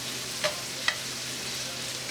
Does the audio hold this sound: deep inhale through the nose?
no